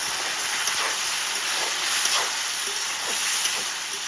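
Ginger and tomatoes fry in a pan with a continuous soft sizzle and hiss, small crackling bursts rising now and then over the even frying sound.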